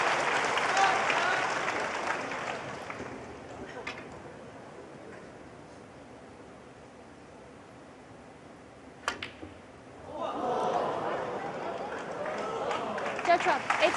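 Applause from the snooker crowd at the Shanghai Masters final rises loudly, fades under a commentator's voice, then swells again with sharp cue ball clicks heard in between.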